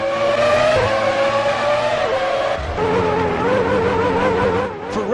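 Formula One cars race around Monaco in Formula One 2003, with loud, close, high-revving engine wails that rise and fall in pitch and overlap as cars pass, plus a brief squeal near the end.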